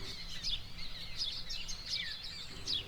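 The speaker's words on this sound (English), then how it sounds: "Lots of chirping birds" Small birds chirp and twitter in short, repeated bursts at a quiet campsite, faint and somewhat distant over a low outdoor rumble.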